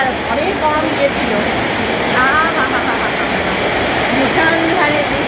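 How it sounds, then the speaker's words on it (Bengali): Heavy downpour of rain, a dense, loud, continuous roar of falling water close by, with faint voices mixed in underneath. "মুষলধারে বৃষ্টি, ও বৃষ্টি"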